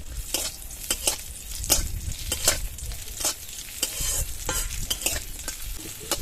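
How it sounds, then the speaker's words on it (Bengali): Halved cashews and raisins fry in ghee with a steady, close sizzle while a utensil stirs them, giving sharp scraping clicks every half second or so against the pan; no one speaks. "কাজু আর কিশমিশটা হালকা করে ভেজে নিয়েছি"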